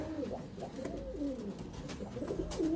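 Pigeons kept for sale in Bangalore, Karnataka coo close by, a run of soft, throaty, rolling calls that repeat every half second or so over a low background hum.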